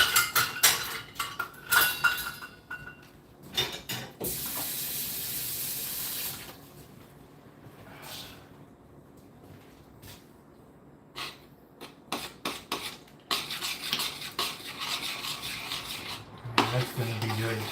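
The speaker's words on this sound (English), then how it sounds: "Let's give that a good initial stir." Peach jam is stirred in a pot, with a spoon clinking and scraping against the metal in uneven bursts. A longer watery rush from a tap sounds in the middle, and no one speaks.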